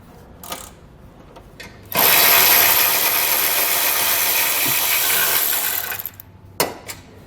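Ratchet or power tool removing 13mm bolts from a Chevrolet bumper support, a loud continuous buzzing run lasting about four seconds, framed by a few short clicks and taps before and after.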